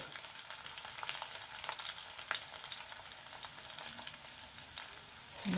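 Garlic and curry leaves sputter and crackle in a hot pan with a faint, continuous sizzle dotted by small pops and occasional stirring scrapes, ending in a louder rustle.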